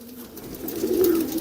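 A purebred Punnu pigeon gives a short, low coo, close by and fairly soft, swelling toward the end.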